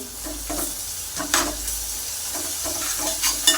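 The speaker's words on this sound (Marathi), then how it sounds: "आता यामध्ये आपण अद्रक आणि लसणाची पेस्ट घालूया आणि परतून घेऊया" Ginger garlic paste and onions sauté in a pan with a close, steady sizzle, while stirring adds short scraping bursts. No one speaks.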